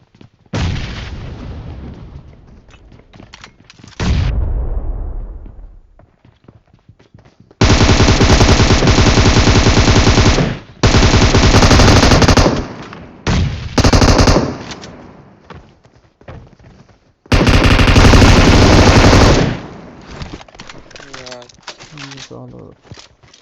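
Bursts of automatic gunfire from the mobile battle-royale game PUBG Mobile on the Erangel map, several loud sustained volleys separated by short pauses, with players talking between bursts.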